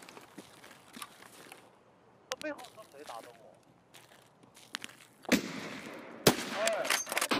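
Gunshots hit the player in Escape from Tarkov: sharp, scattered cracks at first, then a tighter, louder cluster of shots near the end, over low ambient rumble.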